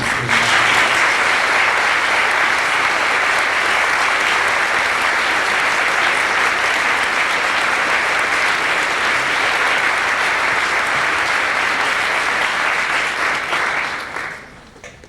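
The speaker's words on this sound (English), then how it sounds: "I think they deserve a round of applause." A large audience at a junior high all-region band concert applauds band directors, a thick, steady roar of clapping lasting about fourteen seconds before quickly fading out.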